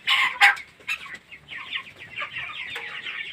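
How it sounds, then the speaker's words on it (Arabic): Thirty-three-day-old broiler chickens clucking in a poultry house, a dense chorus of overlapping clucks and short squawks close by, with a couple of louder bursts at the start. "فراخ عمر 33 يوم نصور دلوقتي ونشوف الدنيا فين."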